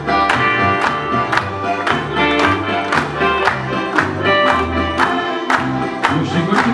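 Wedding guests clap steadily in rhythm alongside loud, continuous band music at a reception, the claps landing as regular sharp beats throughout.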